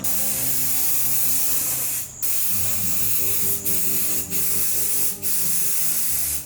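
Rust-Oleum Flat Black spray paint applied to a truck spoiler, heard as a loud, continuous aerosol hiss broken by several brief pauses between passes, up close and without speech.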